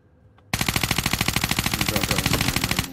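Rapid automatic gunfire erupts suddenly in a video game after a brief quiet moment, a loud, continuous burst of evenly spaced shots that lasts over two seconds before cutting off.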